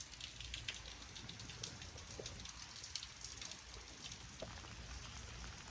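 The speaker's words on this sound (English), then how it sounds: "We don't get a lot of rain here, so I had to go outside and enjoy it for a few moments." Steady rain falls outdoors in autumn, a soft even patter of drops on surfaces with occasional sharper taps, fairly quiet and continuous with no talking.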